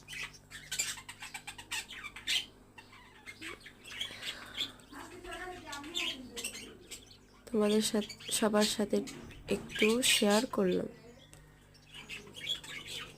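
Pet budgerigars chirp and squawk in a cluster of quick, bright calls, strongest toward the middle, while a person talks nearby throughout.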